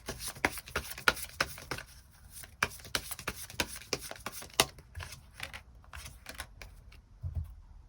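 Tarot cards are shuffled and pulled from the deck, a close run of sharp papery clicks and slaps in uneven clusters that thin out toward the end.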